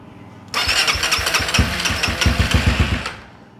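A brand new Honda motorcycle cranks and fires up close and loud with a choke held. It settles into an uneven, throbbing idle for a few seconds before dying away.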